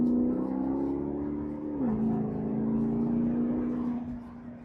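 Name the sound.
2011 Maserati GranTurismo engine revving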